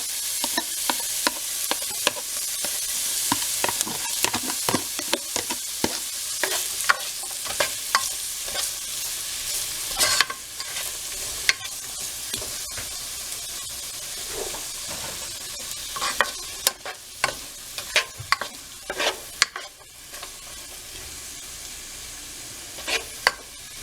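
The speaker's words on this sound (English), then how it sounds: "I'm going to let this saute. I'm not going to rush it." White and red onion, garlic and red peppers sautéing in a pot, a steady soft sizzle broken by frequent scraping stirs from a utensil, close and continuous with no talk.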